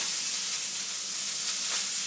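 Beef burger sizzling in a hot pan on high heat, a steady, dense hiss and crackle that continues without a break, close and fairly loud, with no voices.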